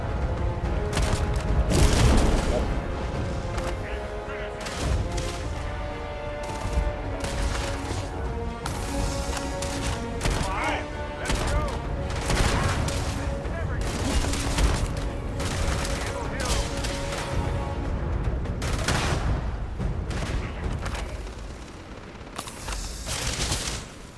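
Heavy, continuous gunfire from a sci-fi shooter, Starfield, keeps up as rapid overlapping shots and booms throughout, with a voice talking now and then over the firing.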